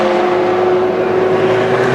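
Audi and Peugeot prototype race cars at the 2011 Le Mans 24 Hours give a loud, sustained engine howl with a steady high tone running from start to finish.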